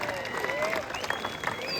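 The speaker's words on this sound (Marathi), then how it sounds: "टाळ्या करा पुन्हा" A crowd at a kusti wrestling bout in Lohgaon applauds and cheers the two wrestlers, brief dense clapping with voices and whistle-like calls mixed in, someone talking over it.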